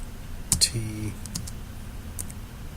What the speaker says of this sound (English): So I start typing in the name until it gets a distinct name